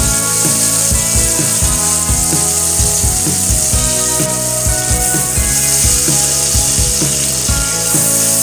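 Butter melting into hot oil in a pan for a tilapia and vegetable dish, giving a loud, dense sizzle that runs continuously with rapid irregular crackles close by.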